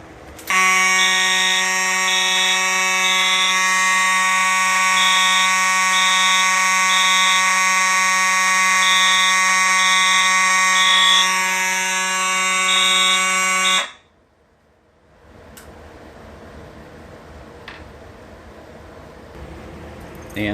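A Silent Knight 5820XL fire alarm panel sounds after a smoke detector's test button is pressed, a loud steady electronic tone with a pulsing beep over it for about fourteen seconds, then it cuts off to quiet room noise with faint clicks.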